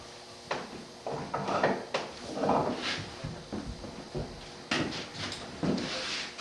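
A marking gauge is drawn across a wooden drawer front while hand-cutting dovetails. It makes a series of close, dry scraping and rubbing strokes of wood against steel, irregular and repeated, with no talking.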